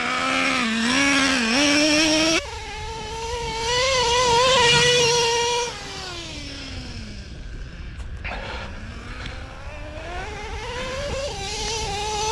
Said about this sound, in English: This is why you run a Nitro truck.